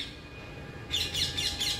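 A rose-ringed parakeet calls outdoors in the morning, a run of several quick, shrill chirps starting partway through and repeating in a fairly even rhythm, moderately near over a quiet background.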